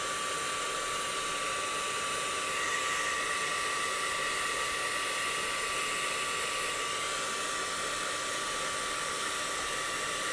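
A heat tool blows a steady, unbroken whoosh of hot air while melting yellow encaustic wax, close and constant from start to finish.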